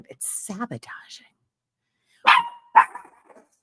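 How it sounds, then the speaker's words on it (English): A dog barks twice in quick succession, fairly close and loud, following a stretch of speech from a woman indoors. "Sorry about my dog."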